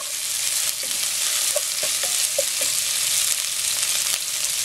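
Ginger frying steadily in a pan gives a constant close sizzle, broken by a few soft scrapes and knocks as it is stirred, with no voices.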